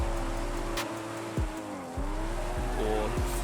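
A Nissan R34 GTR drifting in Forza Horizon 5, its engine droning steadily while the revs drop and climb again through repeated shifts, with tire squeal underneath and a brief swish of wind.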